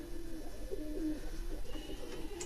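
A pet pigeon, one of a flock kept for decades as a hobby, gives a short soft cooing phrase, close and fairly quiet, with no talk over it.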